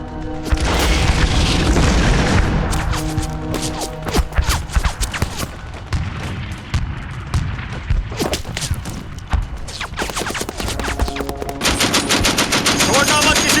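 A film battle scene with loud, sustained machine gun fire mixed with booming explosions and scattered gunshots, dense and continuous throughout, with shouting voices and a dramatic music score partly audible beneath the chaos.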